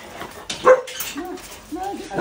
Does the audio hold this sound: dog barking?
yes